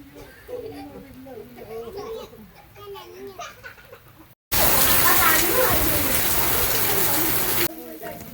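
Steady heavy rain pours outdoors by a river, arriving abruptly after a stretch of children's voices and chatter, then roaring loud and even for about three seconds before easing off.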